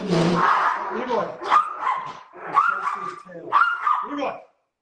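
A dachshund barks repeatedly at close range, a string of loud yapping barks in irregular bursts with some whining, a person talking alongside.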